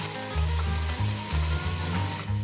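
Glutinous rice fries in a pan with sautéed garlic, onion and ginger, giving a loud, continuous sizzle over a rhythmic low throb, heard close with no talking.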